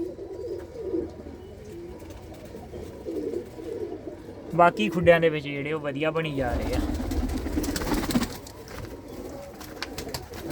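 Pigeons coo in a loft with nesting boxes, several soft rolling coos rising clearly in the middle amid low background noise, while someone talks nearby.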